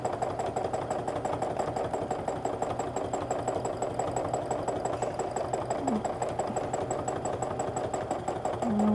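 A sewing machine runs steadily for free motion quilting of a double loop meander, its needle hammering in a fast, even mechanical rhythm throughout, close and fairly loud with no speech.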